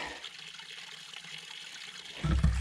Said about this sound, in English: We have some running water.